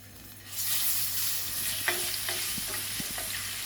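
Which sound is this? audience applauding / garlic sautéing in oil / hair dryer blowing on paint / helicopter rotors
garlic sautéing in oil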